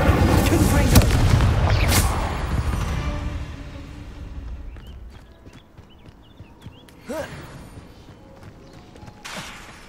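Spell combat in the video game Hogwarts Legacy, opening with a loud, heavy blast and crackling impacts from the Confringo blasting spell, then fading into quieter scattered hits and effects.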